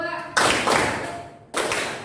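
Children in a classroom clap together in a counting game, with two sharp bursts of group clapping separated by a brief pause, loud and close.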